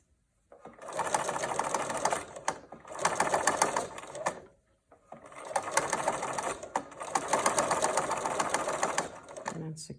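A home sewing machine runs a straight stitch on a fabric face mask in four close, loud bursts separated by short pauses, its rapid needle clatter filling each run.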